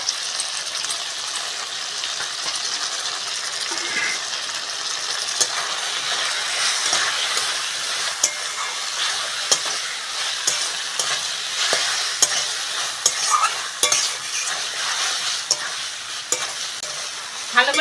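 Mustard, cumin and ginger pastes being sautéed and stirred in a pan for a thin Bengali fish curry: a continuous sizzle broken by frequent spatula scrapes and clicks, close and steady, no voices.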